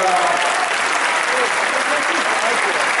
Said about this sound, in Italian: Fatevi un applauso perché lo spettacolo stasera siete voi.